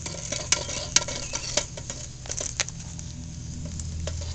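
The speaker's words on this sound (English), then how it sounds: "I'm going to take my skimming tool and I'm going to go ahead and stir it" A skimming tool scrapes and taps through molten lead in a pot for bullet casting, with irregular light clinks and scrapes over a low steady hum.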